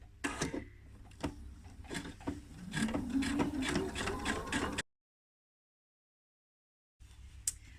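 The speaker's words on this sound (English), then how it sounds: "we're just going to stitch as close as we can along this edge, just on the lining" Sewing machine stitching close along the lining edge of Closet Core Sasha trousers, a steady mechanical whirring run of needle strokes for about five seconds, then silence and a brief restart, close and without talk.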